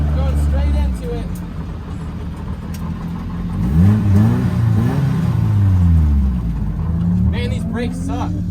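A cheap Nissan 240SX drift car on a race track revs hard, its engine rising and falling through repeated sweeps, loud and close from inside the car, with someone talking over it.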